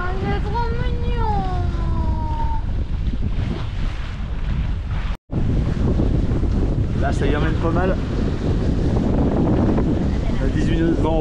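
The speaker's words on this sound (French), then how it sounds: "On a 18 nœuds de vent près serré là." Steady wind roars across the microphone aboard a sailboat beating close-hauled in about 18 knots off Fos-sur-Mer, with water rushing along the hull; a dropout briefly cuts the sound midway, and people talk over the din.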